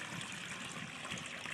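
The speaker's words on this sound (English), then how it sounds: "Pour your water right in the middle." Water poured into a hole in dry cement mix for a sidewalk repair, a soft steady trickling and gushing stream, faint and continuous.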